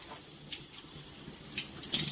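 Tap water runs steadily into a basin while hair is being washed, a soft continuous hiss with small splashes, close and moderately quiet.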